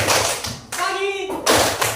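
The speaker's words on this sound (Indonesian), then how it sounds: "Kalau Bapak bilang pagi, tepuk tangan 1 kali." A single hand clap in a classroom clapping game led by a teacher, sharp and close, with children's voices and talk around it.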